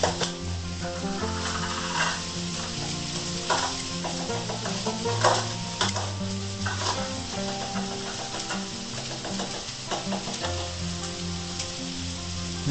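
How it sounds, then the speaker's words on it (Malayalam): Onions sauté in a pan until lightly browned for a water leaf thoran, a steady close sizzle with repeated stirring scrapes and light clinks, over a low background hum. "ജസ്റ്റ് ഒരു ബ്രൗൺ കളർ ആവുന്നതുവരെ വഴറ്റുക"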